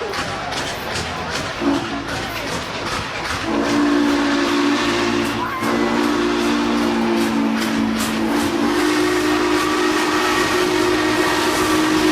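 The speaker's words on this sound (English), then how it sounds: "the 611 coming back under our own power, under steam power, is a tremendous feat" Steam whistle of the 611 steam locomotive on its homecoming run in Roanoke, sounding as long sustained steady tones over rumbling train noise, loud and close throughout.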